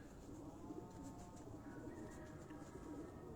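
Domestic pigeon cooing faintly on a rooftop in Abbottabad, soft repeated coos in the distance over steady outdoor background noise.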